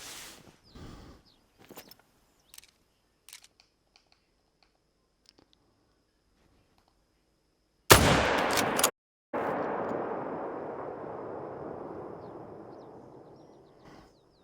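A single loud hunting rifle shot in the video game Hunter Call of the Wild follows a long stretch of near silence broken by faint ticks, then a rolling echo fades slowly over several seconds.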